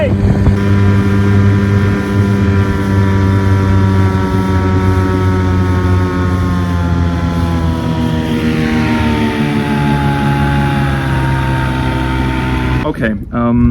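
A small outboard boat motor, just back in service after carburetor maintenance, runs with a loud, steady droning hum. Its pitch shifts partway through, and it cuts off with a clatter near the end.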